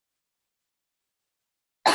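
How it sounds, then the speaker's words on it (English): Silence, then a single sharp cough bursts in at the very end, close and loud. "I'm going to cough the whole rest of the way now"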